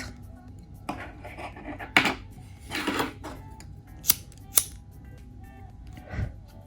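Scissors snip through bracelet cord while making a wrap bracelet: a few sharp, close cutting clicks spaced over several seconds, with soft handling rustle between them and no talking.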